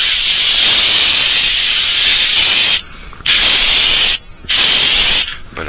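Aerosol or airbrush spray applying true red metallic paint to a fishing lure, loud and close, a steady hiss broken by two brief pauses before resuming.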